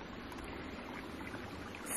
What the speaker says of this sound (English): It's got some really nice cold water. It's pretty abundant, it's flowing.